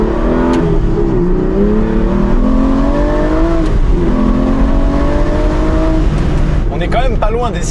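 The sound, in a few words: Aston Martin V12 Vantage S engine revving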